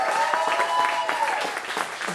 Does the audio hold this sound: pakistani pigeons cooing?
no